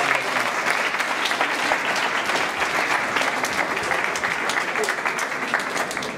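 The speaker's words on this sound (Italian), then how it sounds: "Un applauso a Carmelo." Loud sustained applause from an audience at a blood donors' association assembly, honouring a volunteer, dense even clapping throughout with a faint murmur of voices beneath.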